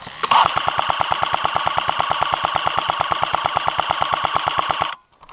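Airsoft guns laying down sustained suppressing fire at an outdoor airsoft field, a rapid, steady stream of loud, evenly spaced shots lasting about five seconds before cutting off abruptly.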